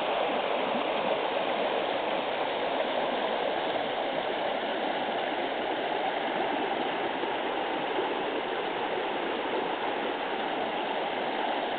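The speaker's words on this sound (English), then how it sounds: "the sound is fantastic. Because this brook is going." A rain-swollen mountain brook after four days of rain, rushing and gurgling in a steady, full roar of flowing water with no pauses.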